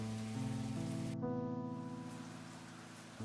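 Steady rain falling outdoors, a dense continuous hiss layered with sustained low droning tones, fairly even in loudness with no talk.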